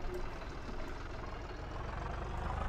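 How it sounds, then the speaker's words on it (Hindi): A modified tractor engine in Farming Simulator 22 idles with a steady low rumble and faint knocking pulses, continuous and moderately quiet with no talk. "इस पर कोई स्पीकर स्पूकर नहीं है, सिंपल ट्रैक्टर है मॉडिफाइड"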